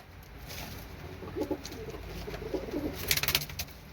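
Soft pigeon coos repeat in short low bursts against a steady hiss of background noise, fairly close but quiet.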